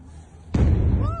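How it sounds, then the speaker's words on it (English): Sharp loud bang of gunfire during street unrest in Iran, a sudden blast that rings out over a crowd murmur and leaves a dense rumbling tail. "You can hear the gunfire."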